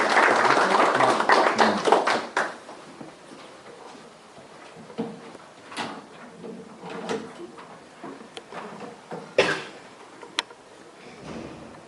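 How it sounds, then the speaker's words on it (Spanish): Loud applause from an audience at a book presentation, dense clapping at the start that quickly thins into scattered claps, with a few isolated sharp knocks afterward. "Fuerte aplauso."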